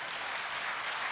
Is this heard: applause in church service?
yes